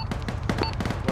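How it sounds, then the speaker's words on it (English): Rapid gunfire in the military shooter ARMA 3, a quick run of sharp cracks close together, with voices over it. "What are we shooting at?"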